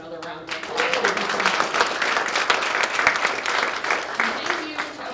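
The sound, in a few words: audience applause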